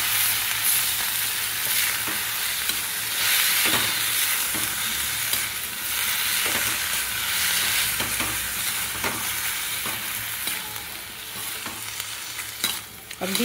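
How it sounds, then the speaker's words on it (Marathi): Fenugreek leaves stir-fried in a pan for a Marathi methi bhaji, a steady loud sizzle with repeated scraping strokes of the spatula, close and continuous without talk. "आता आपण ही भाजी परतवून घेणार आहे।"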